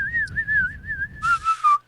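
A person whistles in imitation of a tachyon detector, a wavering steady tone that holds, then drops to a lower pitch with a hissy breathy edge near the end, close and fairly loud.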